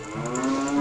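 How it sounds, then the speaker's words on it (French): A cow moos in the video game Zelda Ocarina of Time, one short, steady, drawn-out lowing note, clear and close, with no talk over it. "pourquoi ils ont foutu une vache ici"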